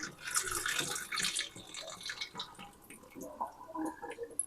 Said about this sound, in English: Now, let's drain the water, and we put them in there.